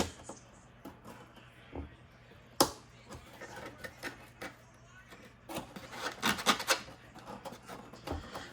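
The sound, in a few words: trimming a model aircraft part by hand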